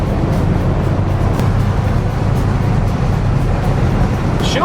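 A 1969 Oldsmobile 442 engine roaring at wide open throttle, heard from inside the car as a loud, steady, dense low rumble with road noise.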